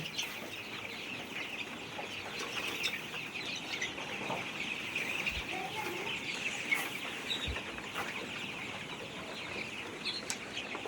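A flock of chickens clucking softly while eating after a Gumboro vaccination on a poultry farm, a continuous busy murmur of overlapping clucks with a few brief thumps, moderately close, no talk.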